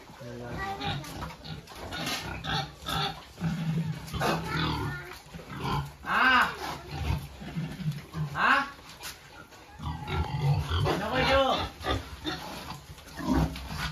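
Pigs grunt and squeal repeatedly in bursts, close by, with other animal noises mixed in and no clear talk.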